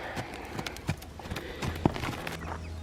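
A horse's hooves clip-clop on the ground during a hindquarter yield in liberty groundwork, with several distinct irregular footfalls close by and a faint voice in the background.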